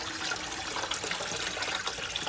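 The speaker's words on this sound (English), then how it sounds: "after our broth, then now we are gonna put our water" Water pouring steadily into a large pot of gumbo broth being cooked in bulk, a continuous close splashing stream with no talk over it.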